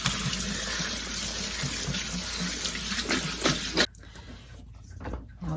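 Tap water runs steadily over cut sweet potatoes in a kitchen bowl, a close, continuous splashing rush that stops abruptly near the end, leaving a few faint clinks.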